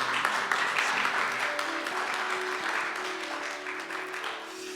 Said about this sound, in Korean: 우리 위로의 박수